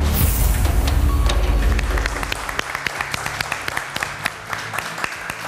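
Studio audience applause on a Turkish TV word quiz show: a loud burst of dense clapping for about two seconds, then thinning into scattered individual claps.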